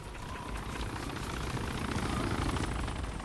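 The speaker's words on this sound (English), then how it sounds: "Choppers are making some insane maneuvers, though." Helicopters maneuvering in the video game DayZ on the Namalsk map, a steady rotor whir and engine roar filling the air, loud and continuous without voices.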